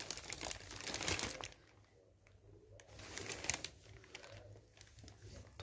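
Gift wrapping paper crinkles and rustles close by in uneven bursts, louder at the start and again midway, with quieter pauses between handling.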